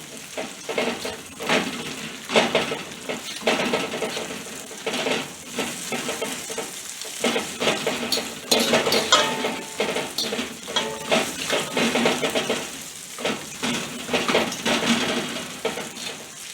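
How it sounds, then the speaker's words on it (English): Mushrooms and sausage sauté in a pan for stir-fry noodles, sizzling continuously with frequent scraping and stirring strokes of a utensil, moderately close and without talk. "I'm going to saute my mushroom and sausage together"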